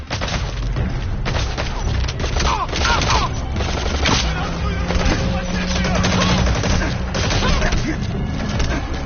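Unsuppressed gunfire in Metal Gear Solid 5: The Phantom Pain, with dense bursts of shots and booms running continuously over a busy game soundscape, loud and sustained with speech-like sounds mixed in.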